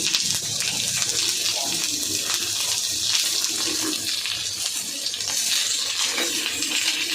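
Potato hits hot oil tempered with a dried red chilli and panch phoron for a methi shak dish, giving a loud, steady hiss of sizzling that holds throughout at close range.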